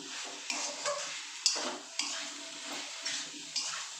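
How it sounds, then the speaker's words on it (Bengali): Soybean curry mixture stirred in a pan, with a wet, rhythmic scraping and sloshing as the spoon works through the thick masala about every half second over a soft background hiss. "এবার এটাকে আমি ভালো করে মিক্স করে নিই"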